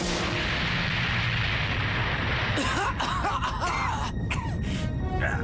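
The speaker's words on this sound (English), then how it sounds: "Explosion!" Anime explosion sound effect: a sustained loud roaring blast rumble, followed by crackling debris bursts and a shouting voice, heavy and dense throughout.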